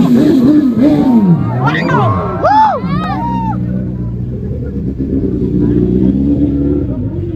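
A loud motorbike engine revs and roars close by at a car and superbike show in Thane, amid crowd noise and shouting voices, with rising whine-like sweeps.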